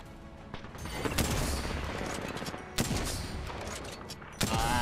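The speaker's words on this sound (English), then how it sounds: "Let me get a shot off." Gunfire in Apex Legends during a 9v9 Control match: a continuous rattling volley with several sharper, louder shots standing out over a busy game mix.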